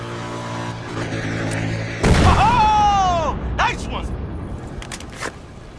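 An explosive charge detonates in a video game with a sudden loud boom partway through, followed by a crackling, ringing tail while a voice speaks before and after the blast.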